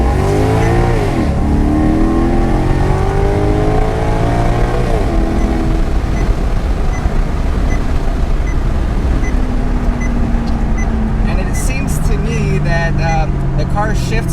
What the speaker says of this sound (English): So here we're gonna do a first gear pull right here.